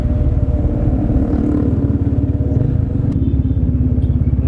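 A Kawasaki Ninja motorcycle engine idles loudly nearby on a city street at night, with a steady, throbbing putter and slight rattles, running continuously without revving.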